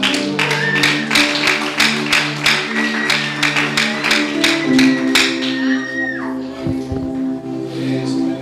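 A church congregation claps in a steady, even rhythm with sharp, evenly spaced beats over a sustained tonal background, likely music, and some scattered voices.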